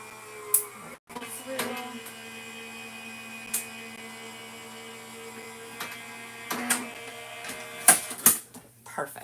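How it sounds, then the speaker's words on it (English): A die cutting machine runs steadily through card stock with a continuous mechanical hum and whir, broken by sharper clicks and clunks near the end. "I'm going to go ahead and cut this again, just so I can get it done while we got the noise going on from this machine"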